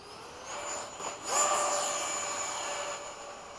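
A radio-controlled model airplane flown in formation passes overhead, its engine a steady high whine that swells as it goes by and then holds against open-air background.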